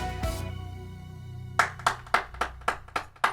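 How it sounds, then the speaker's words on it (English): Hand claps ring out in an echoey room, first a single clap then a quick run of about six sharp claps, each trailing off into a short reverberant tail. "The clap is super echoey."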